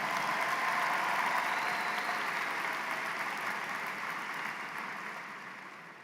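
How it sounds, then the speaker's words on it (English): An audience applauds at an evening doctoral and postgraduate graduation ceremony. The clapping is steady and dense from a distance, then gradually fades out. "Give them a big round of applause"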